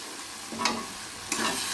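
Banana flower curry in ghee with garam masala stirred in a pan: a low steady sizzle broken by two brief scraping stirs of the spoon, close and without speech.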